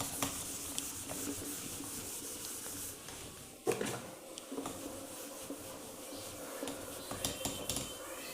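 Writing is rubbed off a board in a maths lesson, soft scratchy rubbing strokes up close, with a sharp knock midway followed by more rubbing and scraping.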